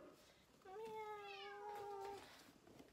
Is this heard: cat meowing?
yes